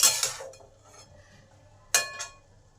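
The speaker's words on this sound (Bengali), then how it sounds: "8 মিনিট পর ঢাকাটা খুলে দেখি কি অবস্থা" A metal lid lifted off a cooking pot of boiled yardlong beans clanks sharply at the start, then rattles again with a brief clink near the end, close and clear over a quiet kitchen.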